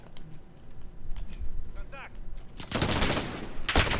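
PKM machine gun in Modern Warfare firing a sustained, loud burst in the last stretch, preceded by quieter game ambience and a faint voice-like chirp.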